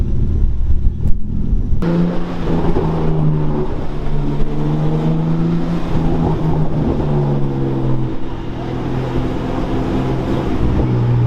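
A car engine with an aftermarket Tomei exhaust rumbles and revs steadily with a deep, throaty note, rising and falling in pitch over several seconds, close by with no talking.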